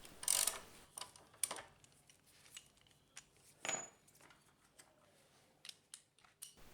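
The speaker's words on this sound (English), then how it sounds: "I need to just loosen the pinch bolt and then loosen the axle bolt" Tools loosen a motorcycle's front wheel pinch bolt and axle bolt, giving scattered faint metallic clicks and clinks at an irregular pace, with one sharper clank near the start and another midway.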